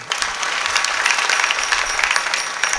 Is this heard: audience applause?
yes